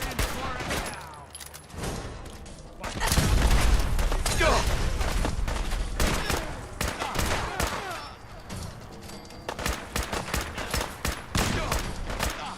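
Gunfire in Fallout 4 erupts in loud volleys of rapid shots with heavy booms, broken by short pauses, while voices shout over the shooting.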